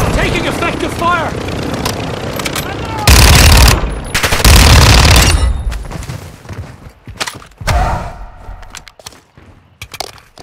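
Bursts of automatic machine gun fire in a Call of Duty match, loud heavy rattling volleys with thumps and gaps between them, mixed with game noise and some voices.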